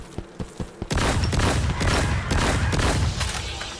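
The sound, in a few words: sniper rifle shots fighting ghouls in video game Zero Sievert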